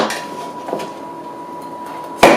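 Knife chopping Toblerone chocolate on a board, a few soft cuts followed by one sharp, louder knock of the blade against the board near the end.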